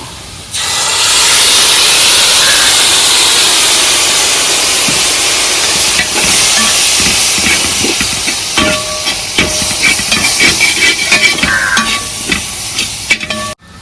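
Soy sauce poured into a hot pan of pork roast masala sets off a loud, continuous steaming hiss and sizzle, with stirring scrapes and clinks growing more frequent toward the end.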